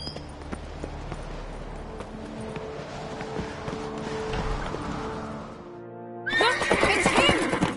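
A horse neighs and hooves clip-clop in the Witcher 3 video game, with repeated whinnies over galloping and a rumbling background, a short pause, then a loud burst of whinnying and hoofbeats.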